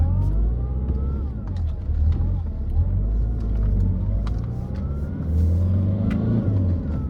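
A 2004 Fiat Palio with the 1.3 Multijet diesel engine revving, a continuous rumbling engine note rising and falling in pitch as the throttle is blipped, heard close and fairly loud.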